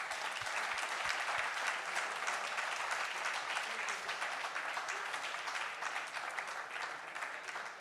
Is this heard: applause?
yes